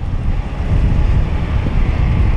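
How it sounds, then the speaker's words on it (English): Wind buffets the microphone during a roadside traffic inspection, a loud, continuous low rumble with gusty fluctuations and no talking. "Windy."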